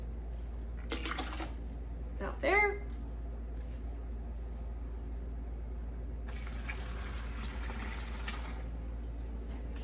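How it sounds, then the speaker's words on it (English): Water running into a container to mix clay slip for a pottery damp box, a steady faucet-like rush that starts partway through. A person speaks briefly over it, and a low steady hum runs underneath. "I'm gonna fill you up with some water"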